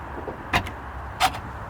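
A car's electric power windows run in two short motor whirs, one about halfway in and another just after, each a quick, fairly close hum over a quiet background.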